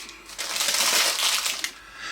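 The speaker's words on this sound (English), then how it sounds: "just peel back the paper gently" Baking paper is peeled slowly away from a slab of set peanut butter fudge just lifted from its pan, giving a close, crisp crackle that lasts about a second.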